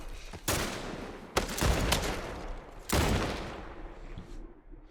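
Gunfire in the video game The Last of Us, with three heavy, loud bursts of shots a second or so apart, each fading into a rumbling tail.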